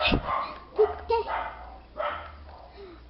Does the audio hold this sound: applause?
no